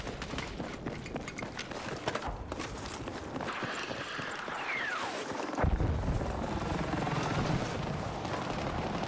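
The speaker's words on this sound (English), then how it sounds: "I hear a helicopter, can't see that helicopter" In a first-person shooter game, a helicopter's rotor throb churns in the distance beneath a busy mix of footsteps, gunfire-like bangs and a whooshing sweep. It stays fairly steady and unobtrusive.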